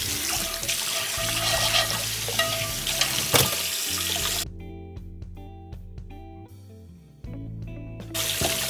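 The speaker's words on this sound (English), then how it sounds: "Once you've got it all scrubbed, then you just have to give it a good rinse." Tap water running steadily into a cast iron pan as it is rinsed after scrubbing, a loud close rush that cuts off and restarts, with clinks of the pan in between.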